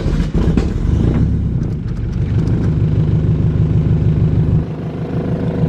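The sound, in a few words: Honda car engine cold start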